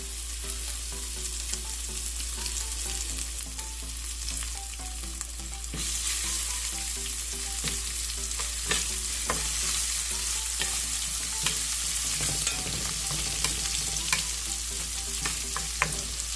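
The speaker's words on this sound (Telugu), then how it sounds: "అల్లం కొంచెం వేగాక, ఈ తురుముకున్న అల్లం వేసుకున్నాం కదా, అది కొద్దిగా వేగాక" Grated ginger fries in a pan with steady sizzling and crackling, up close, along with occasional clinks and scrapes from stirring and no voices.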